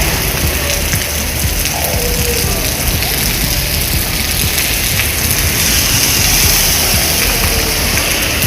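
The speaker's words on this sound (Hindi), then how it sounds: "ये अच्छी खासी बारिश हो गई है," Heavy rain falls steadily in Kanpur, a loud and even wash of hiss and patter that continues without a break, with faint engine rumble underneath.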